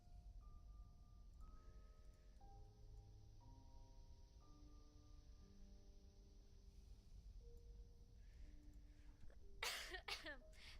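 A few close coughs near the end, sharp and abrupt, over soft background music with sustained tones.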